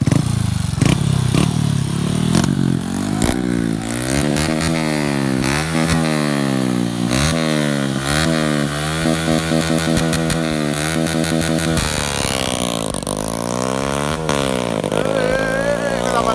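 A motorcycle with a custom-built exhaust launches hard and accelerates through two gears, its loud, close engine note sweeping up in pitch with each gear and dropping at the shifts.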